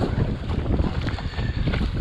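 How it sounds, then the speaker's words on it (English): A 7 to 9 knot headwind gusts over open water during a kayak paddle in an Advanced Elements AirVolution Sport, a loud steady roar of wind buffeting the microphone with faint lapping water underneath. "there's a headwind coming in, which is probably between 7 and 9 knots"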